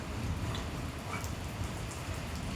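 Raindrops fall steadily, a soft even patter and hiss throughout, with no voices.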